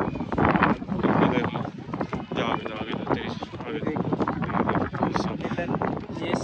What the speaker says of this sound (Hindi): इतनी ठंडी ठंडी हवा चल रही है